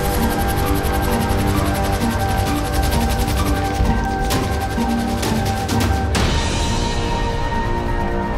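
Helicopter in GTA 5, damaged and smoking, its rotor throbbing steadily as a continuous loud drone with a sharp change in tone near the end.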